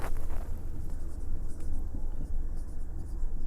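Chalk scratching across a classroom board, steady and close, with a continuous rough texture and small irregular strokes throughout.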